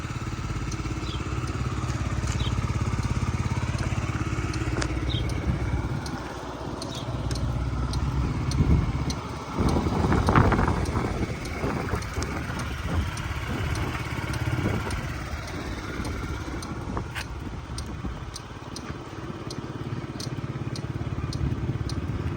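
A Yamaha Jog SA39 fuel-injected scooter engine runs steadily close by, humming evenly at idle for the whole stretch with slight rises and dips.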